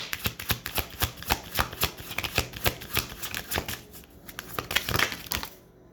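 Tarot cards are shuffled by hand in quick, rhythmic riffles, a run of crisp, close flicking bursts that speeds into a denser flurry before stopping.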